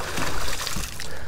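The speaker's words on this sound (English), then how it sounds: "Lots of getting splashed today." Water splashes and sloshes beside a boat as a big freshwater fish is landed, a close, brief rush of churning water.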